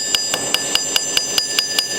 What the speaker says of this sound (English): That's a ball peen hammer.